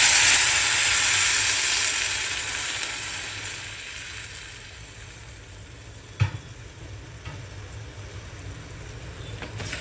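Water poured into a pan of roasted bhagar (barnyard millet) hisses and sizzles loudly at first, then fades into a quieter steady bubbling, with a single sharp clink of utensil against pan midway.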